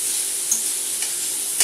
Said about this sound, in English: I'm just gently frying the